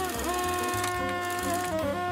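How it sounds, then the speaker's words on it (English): A sewing machine stitching fabric, a rapid, steady mechanical whirring with rhythmic needle ticking, close and clear, running alone without talk. "Now we're sewing."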